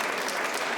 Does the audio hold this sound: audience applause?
yes